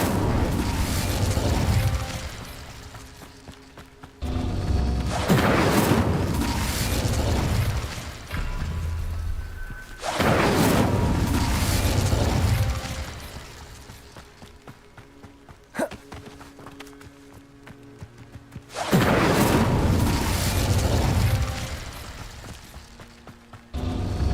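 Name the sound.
Incendio fire spell blasts in the video game Hogwarts Legacy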